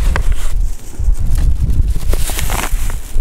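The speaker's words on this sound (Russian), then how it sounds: "Ветер ужасно вообще сносит." Strong outdoor wind buffeting the microphone in a steady loud roar with gusty rumbles throughout, heard while batter is mixed outside; no voice over it.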